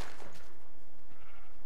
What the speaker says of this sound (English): Look at all these sheep, it's ridiculous.